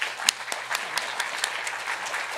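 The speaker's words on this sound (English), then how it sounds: "I think he deserves a round of applause" A small audience at an awards evening claps in a steady scatter of hand claps over a hushed room, moderate and even, with one sharp clap standing out early and no voices over it.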